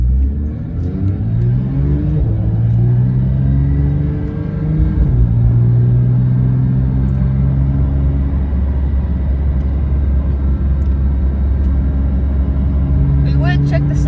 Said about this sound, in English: the car sounds so great we can't really put the stereo on